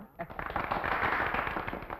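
An audience claps in a brief burst of dense applause that swells and then fades over a couple of seconds.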